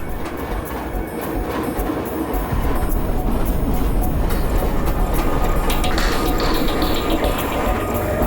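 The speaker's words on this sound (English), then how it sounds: "The narrow gauge train travels tentatively into the higher regions and also into changing weather." A narrow gauge train climbs steeply toward Alishan in Taiwan's mountains, its steady rumbling and clattering rolling on continuously at close range, with brief higher squeals near the end.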